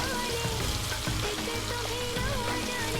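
Two large chopped onions frying in a hot pan with leftover chicken seasoning, giving a steady, dense sizzle that stays close and loud throughout, with no speech.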